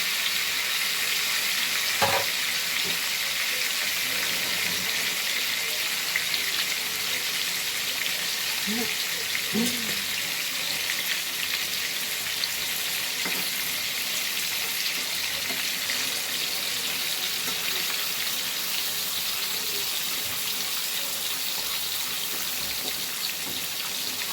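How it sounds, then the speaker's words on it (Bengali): Fish pieces laid in a kadai frying in hot oil, a dense, even sizzle and crackle holding steady for the whole stretch, close and constant with occasional faint clicks. "এই গরম তেলটা আস্তে আস্তে একটু একটু করে তুলে মাছের ওপরে আমি দিতে থাকছি"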